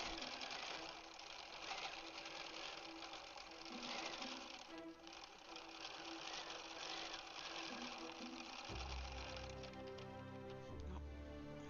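A Bernina 790 Pro sewing machine runs through quilting stitches with a steady, fast mechanical whir and rapid needle ticking, close and unbroken, shifting to a lower tone near the end.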